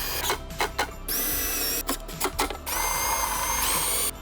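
Power drill driving screws into L brackets inside a wall cabinet during assembly, with short bursts and longer sustained whirring runs, close and loud.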